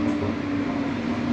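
Inside a moving tram bound for Edinburgh, a steady low rumble and hum of the carriage runs without pause, close and even, with no voices heard.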